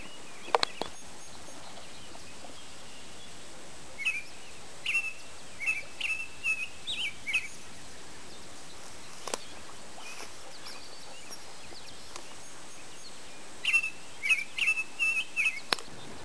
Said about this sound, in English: I think I've seen 13 different species of bird here